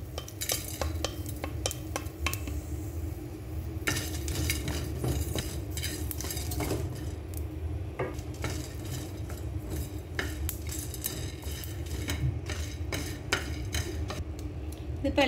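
Chillies, coriander and cumin dry-roasting in a pan, with repeated scraping and clinking of a spoon against metal over a steady low hum, close and moderately loud, in quick irregular strokes.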